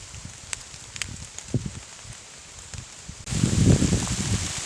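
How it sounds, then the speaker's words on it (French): Steady rain and wind buffeting in a forest, with scattered drops and rustling that swell into a louder, rougher gust toward the end. "on a du vent et de la pluie"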